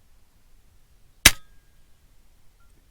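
FX Impact air rifle pellet striking a steel plate target at long range: a single sharp, bright metallic crack with a short ringing tail, isolated against near silence.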